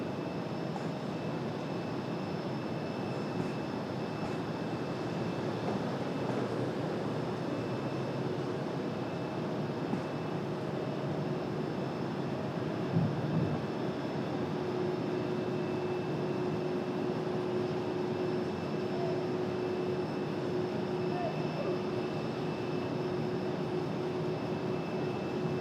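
United Boeing 737 airliner taxiing at RDU airport, a steady distant engine hum and whine holding level throughout under faint outdoor background noise.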